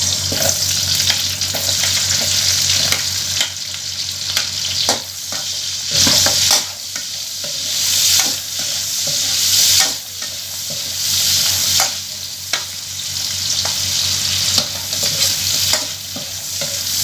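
Onions sizzling in oil in a frying pan for pakbet, stirred at intervals, with a loud, close, continuous sizzle broken by regular scraping strokes of the spoon against the pan.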